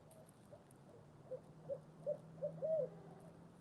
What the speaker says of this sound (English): We have an owl. It's making all kinds of noise this morning.